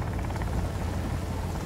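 A helicopter in the video game Sons of the Forest gives a steady, low rotor drone with a faint chop, continuous and fairly near across the whole moment, no talk over it.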